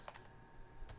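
Quick keystrokes on a computer keyboard during a network spoofing lab session, a few soft clicks in a short burst under a low steady hum, close to the microphone.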